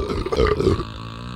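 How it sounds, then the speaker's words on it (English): One long, loud, deep belch after drinking a beverage, rumbling for under a second close to the microphone before trailing off into quiet. "My burps aren't even gonna be as good as his either, though, because I'm not drinking it all in one go."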